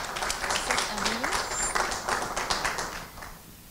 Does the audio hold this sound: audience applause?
yes